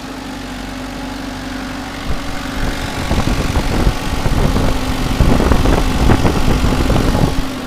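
A JCB 3CX backhoe excavator's heavy diesel engine runs close by, a low steady drone that swells into louder, rougher revving bursts partway through; no voices.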